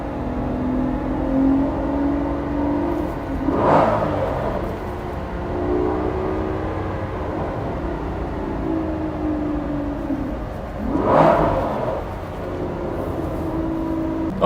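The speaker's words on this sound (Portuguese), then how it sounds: "eu vou testar o motor conforme ele vem subindo o giro para ver se ele dá as cabeçadas" An Aston Martin V12 Vantage in Sport mode with traction control off and a misfire fault holds a steady engine note, with two sharp louder bursts climbing in revs, close up and with no voices.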